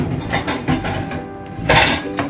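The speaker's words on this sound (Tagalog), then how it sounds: "hinahalo na natin" A utensil scrapes and clinks against a cooking pot while Bisaya-style laswa vegetable soup is stirred, with several loud metallic knocks.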